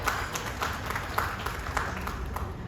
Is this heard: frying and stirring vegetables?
no